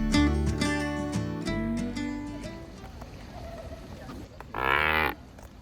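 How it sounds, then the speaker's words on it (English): Pelicans give deep, cow-like moos, several low calls in quick succession, followed after a pause by one louder, brighter bellow close by. "I never knew that pelicans moo"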